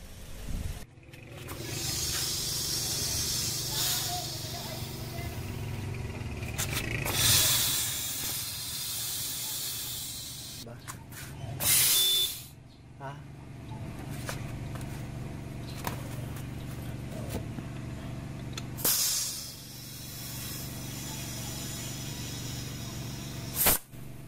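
A steady, loud hiss of compressed air from an air pump inflating a tubeless tire runs nearly continuously, with a few sharper bursts and releases along the way, recorded up close.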